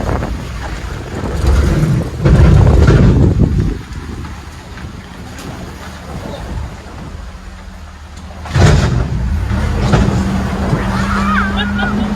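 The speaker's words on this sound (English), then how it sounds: "Don't worry guys, the truck is supposed to make that sound." A tour truck on a jungle expedition rumbles along with a deep engine drone and heavy wind buffeting the microphone, surging loudest early on, with a sharp burst later.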